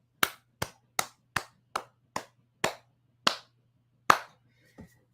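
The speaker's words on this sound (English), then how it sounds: "please give them a wonderful, warm welcome and applause" About nine sharp, isolated hand claps from a single person welcome guests on a live MLS soccer show. They are close and evenly spaced at first, then slow, with quiet pauses between them and a faint hum beneath.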